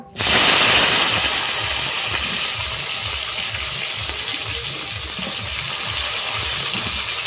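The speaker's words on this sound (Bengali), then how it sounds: "সেই তেলে আমি ঢেঁড়সটা আর আলুটা ভেজে নিব" Okra and potato pieces drop into hot leftover fish-frying oil, setting off a loud sudden burst of sizzling that settles into a steady, close, continuous hiss with no talking.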